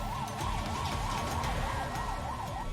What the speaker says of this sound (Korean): 사이렌이 울리고 붉은 불빛과 함께 도로를 달립니다.